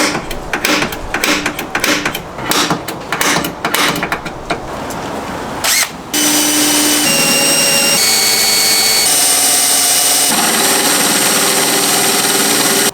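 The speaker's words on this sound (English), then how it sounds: "I was finally able to drill a hole here." A power drill grinds through metal on a Lexus GX470 in loud bursts, followed by a long, steady high-pitched whine as an 8mm bit bores in continuously.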